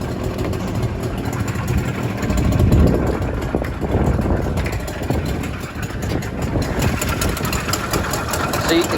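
A Suzuki LJ20V engine idles steadily with a low rumble, heard close by under the open hood, while a person talks over it at times.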